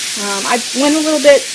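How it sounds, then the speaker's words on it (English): Meat browns in a pan with frozen minced garlic and onion, sizzling steadily with a few short bursts as it is stirred, loud and close, with no voices. "So I've got my meat cooking here, and I went ahead and added 2 of my cubes of frozen minced garlic, and I've got the onion in there."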